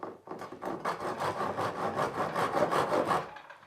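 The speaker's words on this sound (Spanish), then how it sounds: "voy a matar simplemente las 4 esquinas con el serrucho" Hand saw cutting the corners off a block of wood for a 1950s-style wooden güiti cart, with quick, even back-and-forth strokes rasping loudly and close, then stopping abruptly.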